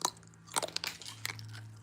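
Close, crunchy chewing of an old stick of trading-card pack gum, with a few crisp bites and crackles, fairly quiet and irregular.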